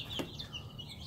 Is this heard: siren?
no